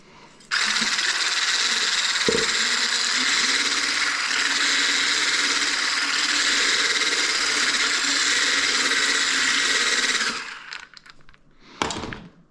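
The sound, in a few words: whisking eggs for an omelette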